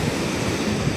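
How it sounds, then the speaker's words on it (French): Ocean waves wash onto the beach at San Pedro, Côte d'Ivoire, a continuous close rush of surf mixed with wind noise on the microphone, with no voices. "Là, les vagues ont failli me mouiller."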